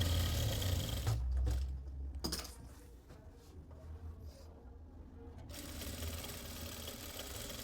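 A sewing machine stitches a lined suit, running in a steady low whir near the start, then pausing for faint handling noises before a softer, continuous hum resumes.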